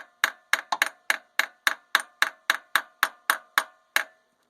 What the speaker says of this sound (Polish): dobijam imbus młotkiem, żeby wszedł jak najgłębiej